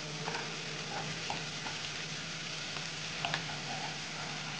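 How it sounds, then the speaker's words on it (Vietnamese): Lemongrass and chili stir-fried with minced garlic in oil, a steady close sizzle with occasional scraping stirs, no voices. "Rồi tiếp tục cho phần sả ớt vào xào cho thật thơm lên."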